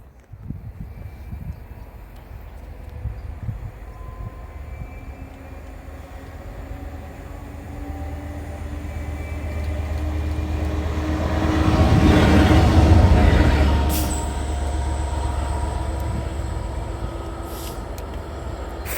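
GBRf freight train passing Monkton foot crossing, a low rumbling drone that swells to a peak midway as the locomotive goes by, then eases off, with a brief high horn tone near the end.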